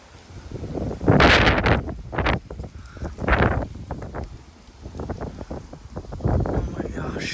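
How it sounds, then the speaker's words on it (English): Strong wind gusts from a severe thunderstorm in Frisco, Texas roar across the microphone in loud, surging bursts, with a voice talking faintly underneath. "we're getting some insanely strong wind gusts from this storm"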